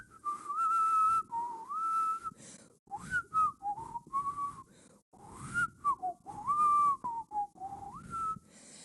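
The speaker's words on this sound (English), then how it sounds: "the sound of Maurice whistling while he fixed the chair" A man whistles a wandering tune while fixing a chair, clear and close, in phrases of sustained and sliding notes separated by short pauses, with faint handling noise beneath.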